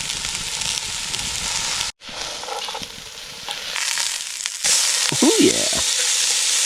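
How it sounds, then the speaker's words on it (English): Steak and mushrooms fry in a pan over a campfire with a loud, dense, continuous sizzle that briefly cuts out and then returns stronger as food goes in; someone speaks briefly over it. "so that I can put the steak on and the mushrooms"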